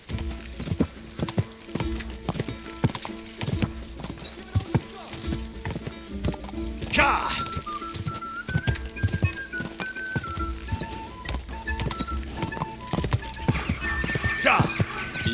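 Hooves clip-clop in a fast, steady gallop in Kingdom Come Deliverance 2, with a horse neighing partway through and someone talking over the pounding rhythm.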